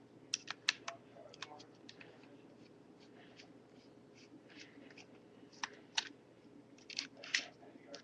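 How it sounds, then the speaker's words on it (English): A T8 screwdriver backs screws out of a game controller: small, quiet plastic-and-metal clicks and scrapes, some in quick clusters, close to the microphone over a soft room hiss. "You're also going to need a T8 screwdriver to open up your controller."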